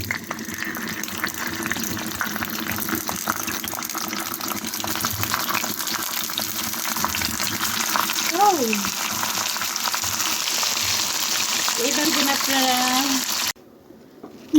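Pabda fish wrapped in leafy greens sizzling and frying in hot oil, a loud continuous crackle and hiss close up, with brief scraping or stirring touches near the end before it cuts off.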